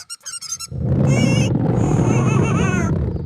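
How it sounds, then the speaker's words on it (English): Cartoon character in a Bluey 3D parody animation squeaking happily: a few quick high squeaks, then long wavering high-pitched squeals over a loud low rumble, close and prominent. "I am squeaking happily."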